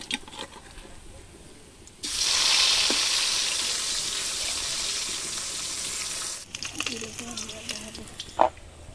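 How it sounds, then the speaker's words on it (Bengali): Lata fish dropped into hot oil sets off a loud, hissing sizzle that holds steady for several seconds, then falls back to quieter spattering and a few soft kitchen knocks. "বাকি মাছগুলো এভাবে আমি ভেজে নেব"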